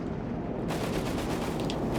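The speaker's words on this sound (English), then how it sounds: "Charging with the Panther, these guns and machine guns, blazing away at the Americans" A Panther tank's guns and machine guns fire in Company of Heroes 3 as a dense burst of rapid automatic gunfire. A quieter start gives way to a loud, sustained rattle.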